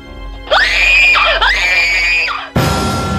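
A woman screams loudly in terror in a horror story. Two long, high, piercing shrieks come close together, followed by an abrupt cut to a noisier background.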